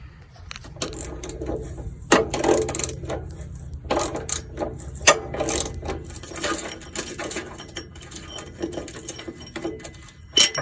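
A hand ratchet clicks in irregular bursts while a bolt is worked loose on a van axle during a Sumo Springs install, with close metallic ratcheting and occasional clanks.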